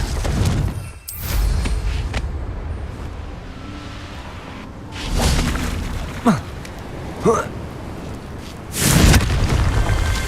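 Confringo blasting-spell explosions in the Hogwarts Legacy video game: several deep booming bursts a few seconds apart, loud and close, among windy ambience and voices.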